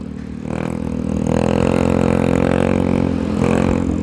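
A motorcycle exhaust roars steadily and close, swelling as the engine revs up and holding a loud, rough drone throughout.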